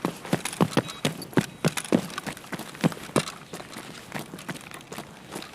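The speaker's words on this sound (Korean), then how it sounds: "발소리 저거 스케블 했지?" Rapid footsteps in the shooter game Escape from Tarkov on the Interchange map, a steady run of sharp thuds at first that grows fainter and less distinct.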